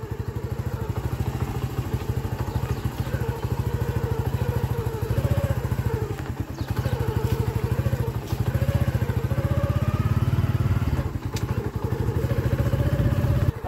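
A motorcycle engine chugs steadily at close range on a muddy road, with a rapid, rough putter, revving slightly at times as the bike slips, with faint clatter and no talking.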